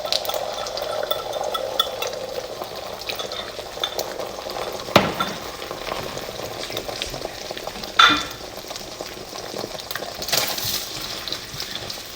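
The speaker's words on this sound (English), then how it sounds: "so just a nice little sizzle" Steady, soft sizzling of hot oil in a frying pan while making bacon fried rice, with a couple of brief clinks and stirring scrapes breaking through.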